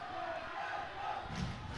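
Crowd at a varsity high school volleyball match cheering and shouting in a steady, dense roar that holds for the whole moment, with a swell near the end.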